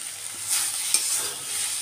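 Brahmi greens dry-frying in a pan without oil give off a soft, steady hiss, broken by a couple of brief scraping stirs. No one speaks.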